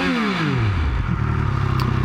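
A Triumph Speed Triple 1200 RS motorcycle engine revs and then settles into a steady, throbby idle, loud and close, with a rattly mechanical edge.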